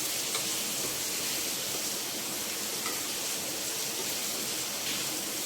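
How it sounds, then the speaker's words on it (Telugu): Heavy rain pouring steadily during a monsoon downpour, a dense, even hiss of falling water that holds constant throughout with no talk. "వర్షం అండి 3 రోజుల నుంచి కొండపోత ఆగకుండా పడుతూనే ఉంది."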